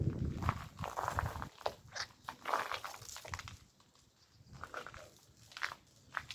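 Footsteps crunching over glass ice, a quiet irregular crackle and crunch with each step, close by and faint, with no talk.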